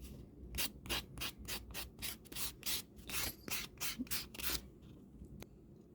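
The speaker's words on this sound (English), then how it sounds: "The buffer is to reduce any scratchy lines that you may have. Just do the buffer in one direction." A nail buffer rubbing across gel nails in one direction, a series of short close scratchy strokes in an uneven rhythm, fairly quiet, ending with a lone stroke after a pause.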